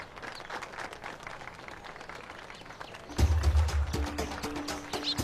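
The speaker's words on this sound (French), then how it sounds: "Veuillez les applaudir." Crowd applauding a kite-flying contest as kites fly high, a dense steady patter of many hands filling the whole stretch, with a music cue entering partway through.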